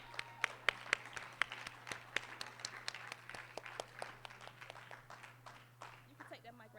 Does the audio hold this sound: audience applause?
yes